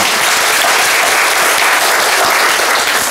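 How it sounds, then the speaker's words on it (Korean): Dense, loud applause from a church congregation at a Sunday service, steady hand-clapping filling the whole stretch without a break. "박수"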